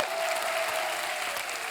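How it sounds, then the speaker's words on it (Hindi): Television comedy show studio audience clapping loudly for a guest, steady dense applause with a faint crowd murmur underneath. "जोरदार तालियां होनी चाहिए।"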